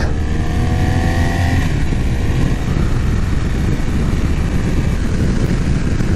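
A motorcycle fitted with laser iridium spark plugs cruises along a highway, its engine giving a steady, smooth drone under loud, continuous wind and road roar, with a few faint tonal whines early on and no talk.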